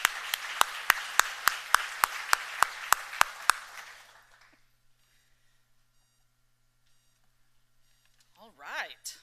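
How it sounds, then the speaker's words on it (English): Applause at a staff awards ceremony, a run of sharp, regularly spaced claps for a few seconds that fades into near silence before a voice begins speaking. "So let's give her a round of applause."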